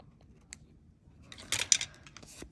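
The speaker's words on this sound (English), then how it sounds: "I'll rather trim that with my scissors" Scissors trim thin metal craft tape: a few quick, crisp snips close by, clustered near the end, over near silence.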